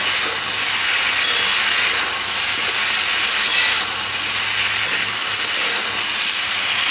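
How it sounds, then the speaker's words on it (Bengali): Pumpkin, potato and drumstick vegetables fry in a pan with ginger-cumin paste, giving a steady, loud, close sizzling hiss that runs evenly throughout with no talking. "এবার সমস্ত কিছু একসাথে ভালোভাবে ভেজে নিতে হবে।"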